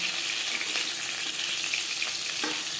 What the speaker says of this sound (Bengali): একটা সাইজ ভাজা হয়ে গেলে অপর সাইডটা উল্টে দেবো